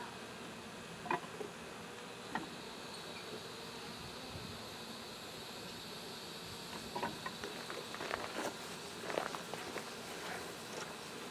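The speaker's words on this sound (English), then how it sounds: "I got bees in the water meter." A swarm of bees inside a water meter box makes a steady, low insect hum, with a few soft knocks and shuffling steps close by.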